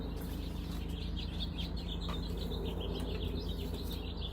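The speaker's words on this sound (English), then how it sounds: "Birds just going nuts." Birds chirp and sing busily outdoors beside a spring compost pile, a dense, continuous chorus of high tweets set against a low steady rumble.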